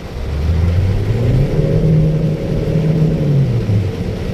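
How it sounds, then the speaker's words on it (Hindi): A car revs hard and steadily as it pushes through a flooded road during heavy monsoon rain in South Gujarat, its engine drone loud and close throughout with slight rises and falls in pitch. "फुल रेस करके गाइस गाड़ी निकाली है मैंने"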